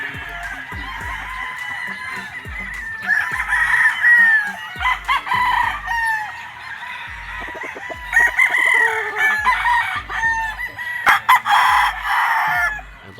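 Roosters crow repeatedly on a gamefowl farm, among them a six-month-old Golden Boy Sweater cock, with overlapping crows, some clucking and low background thumps.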